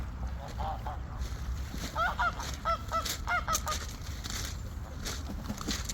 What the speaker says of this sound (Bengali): শুধু যে লেকের ভিতরে হাঁস পাখি রয়েছে তা নয়, লেকের বাইরেও বেশ কিছু জায়গা রয়েছে, সেখানে অনেক হাঁস পাখি রয়েছে, বিশেষ করে রাজহাঁস